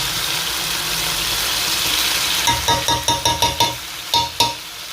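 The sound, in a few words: chicken frying with onion, turmeric and desi ghee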